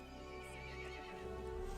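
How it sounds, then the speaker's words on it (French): An angry horse from the video game Resident Evil Village lets out a drawn-out neigh over a low droning game backdrop, faint and continuous for nearly two seconds, with no speech. "Le cheval se mit en colère et appela les autres monstres."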